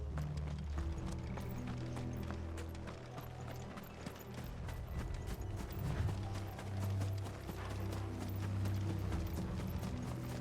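Horse hooves clip-clop in Final Fantasy XVI, a steady, brisk rhythm of clattering hoofbeats over a low ambient drone and music bed, with no voices.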